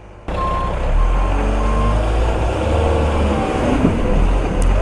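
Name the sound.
Manitou construction machine reversing with beeps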